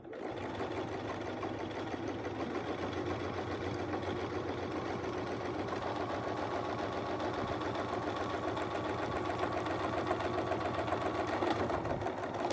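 A domestic sewing machine stitches fabric guided by a Westalee Curly Q quilting ruler, running continuously with a fast, even mechanical hum and rapid needle chatter, steady and close throughout with no talk.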